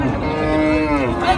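Cattle mooing at a busy cow and calf market in Chaubaria haat, Naogaon: one long, loud, close bovine moo with a harmonic tone sustained across the whole moment, with no talk over it.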